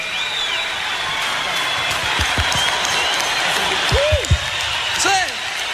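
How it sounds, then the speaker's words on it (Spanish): Audience applause at a live radio station night event, a steady wash of clapping from a crowd with scattered cheers and whistles rising over it, continuous and fairly loud throughout. "Otro aplauso más fuerte."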